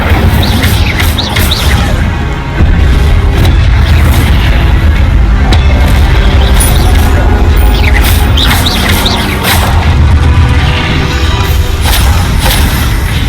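Incendio fire spells in Hogwarts Legacy burst out as repeated loud booming blasts, overlapping with high squawking and chirping effects throughout a busy, constant battle.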